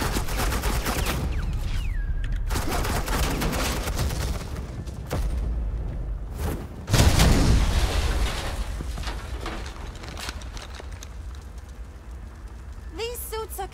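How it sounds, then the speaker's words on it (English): Sustained suppressing gunfire in the video game Batman: The Enemy Within, with dense crackling bursts and heavy impacts running continuously and building to a louder blast midway, mixed with game voices and effects. "Suppressing fire"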